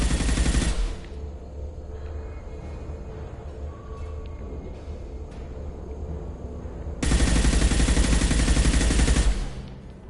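Bursts of video game gunfire from Mass Effect 2, loud sustained rattling at the start and again near the end, with a quieter stretch of softer shots and ambient tones between.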